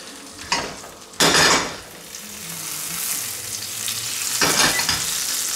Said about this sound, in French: J'ai fait chauffer une poêle avec une noix de beurre dedans, je rajoute un petit peu d'huile d'olive.